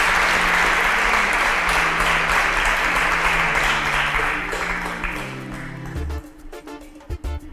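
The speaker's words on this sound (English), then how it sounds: "A round of applause for them as they exit the stage." Loud, sustained studio audience applause on a competition show as contestants leave the stage, steady at first with music underneath, then thinning into scattered claps near the end.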